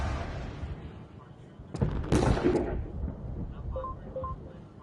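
Airstrikes land in the strategy game Realpolitiks: a broad burst of explosive rumble rises midway and lingers, with softer booms and small interface tones trailing afterward, no talking.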